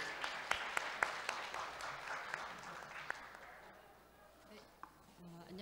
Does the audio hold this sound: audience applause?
yes